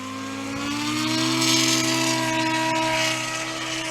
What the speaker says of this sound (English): listen for that turbo to wind up and just start popping when he gets that thing wound way up